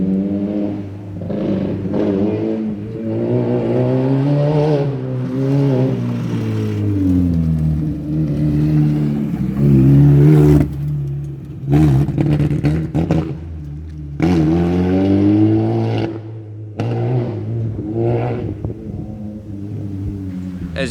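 A Mini R50 budget race car engine revs repeatedly, rising and falling in loud, close bursts with an uneven, stumbling note from a faulty base map.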